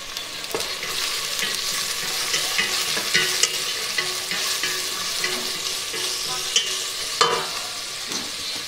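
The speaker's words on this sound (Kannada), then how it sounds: "ನಾನು ಇವಾಗ ಆನಿಯನ್ ಹಾಕ್ತಾಯಿದ್ದೀನಿ. ಓ ಓಕೆ, ಆನಿಯನ್ ಹಾಕಿದ್ದೀನಿ." Onions fry in hot oil in a pan during chicken curry cooking, a steady bright sizzle with occasional stirring knocks and scrapes, close and continuous without talk.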